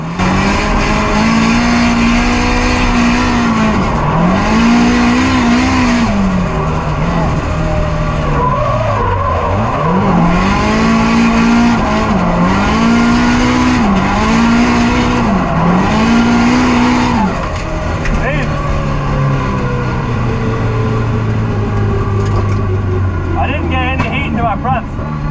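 A Nissan S13 Silvia drifts with its engine revving hard in rhythmic surges and its tires squealing loudly and continuously, heard up close.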